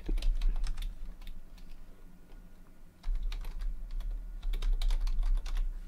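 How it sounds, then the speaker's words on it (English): Close-up typing on a computer keyboard, with clusters of quick key clicks coming in uneven bursts and short pauses, over faint background hum. "So, I'll type it to show you."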